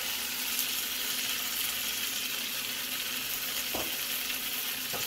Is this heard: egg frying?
yes